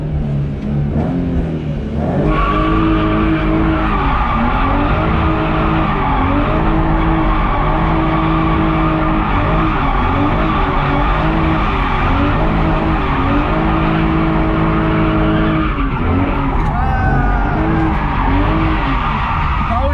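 A car engine roars loudly with sustained revving while tires squeal and skid through a long drift on snow, front tires sliding, continuous and close throughout.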